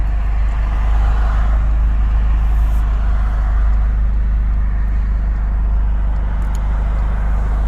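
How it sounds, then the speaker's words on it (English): Steady, loud rumble of road traffic rolling past a parked VW GTI, with cars and trucks passing close by in a continuous wash of engine and tire noise, no talking. "That's all the traffic I have to contend with"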